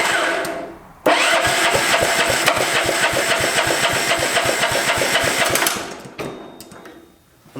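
A small engine being fitted to a homemade Formula One car sputters to life and runs loud and close with a rapid, rattling beat for about five seconds, then cuts out and briefly restarts.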